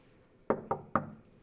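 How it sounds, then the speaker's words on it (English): Three sharp knocks on a wooden door land in quick succession, close and fairly crisp against a quiet room. "It was rare that someone knocked on my door"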